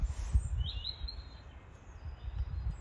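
Birdsong in Norfolk countryside, a faint thin whistled call drifting behind low gusty wind rumble on a cold day, no voices.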